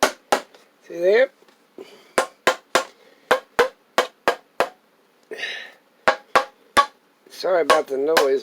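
A hammer pounds a lid down onto a water jug: about fifteen sharp, close knocks in uneven runs, with someone speaking briefly between the strikes.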